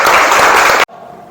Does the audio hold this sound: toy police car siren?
no